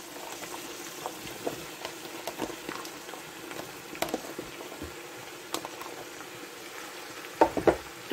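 Bell pepper goes into a pan with carrot that is already frying for a soup base, giving a soft, steady sizzle with scattered pops and a few stirring clicks, fairly quiet.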